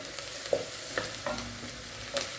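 Onions softening and frying in a pan while being stirred, a steady low sizzle broken by a few sharp clinks of a utensil against the pan, close by with no talking.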